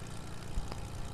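Airplane engine in a video game, a low, steady propeller drone holding at moderate level with a small thump partway through and no voices.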